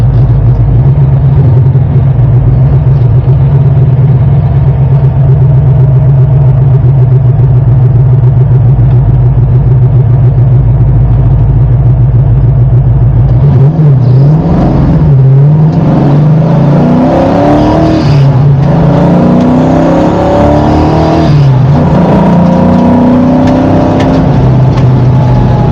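A 1969 Pontiac GTO pro-touring car on a drag strip idles with a deep, loud rumble, then roars into hard acceleration with rising and falling revs as the wheels spin, close and loud throughout.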